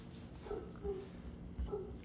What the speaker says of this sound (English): you hear my dogs yapping again.